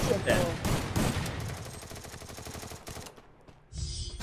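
Gunfire in the mobile shooter Free Fire Max, rapid repeated shots forming a dense burst that fades out, with voices talking over it.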